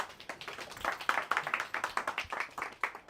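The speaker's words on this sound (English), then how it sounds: "give me a round of applause one more time" Audience applause in a live business seminar, a dense run of close, sharp hand claps lasting a few seconds at steady moderate loudness, with no talk over it.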